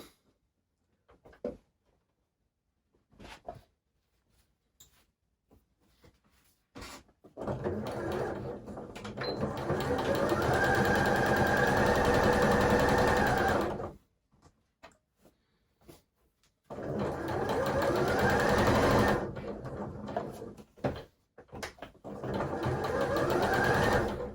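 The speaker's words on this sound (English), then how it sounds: "let me get on and sew this one" A sewing machine stitching fabric in two long runs of rapid, steady mechanical whirring, separated by quiet gaps with small clicks and handling sounds.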